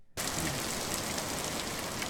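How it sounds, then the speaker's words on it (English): Steady heavy rain pours down outdoors, a dense, even hiss that starts abruptly and fills the whole stretch, with no voices. "That's a lot of rain."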